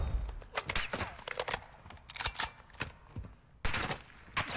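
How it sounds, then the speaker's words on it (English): Bots in the Call of Duty DMZ video game firing at the player in hardcore solo play, with sharp bursts and single gunshots scattered across the clip and a loud, dense volley near the end. "Once these bots are all shooting at me."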